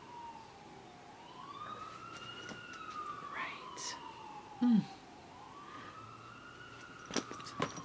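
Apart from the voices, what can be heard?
sirens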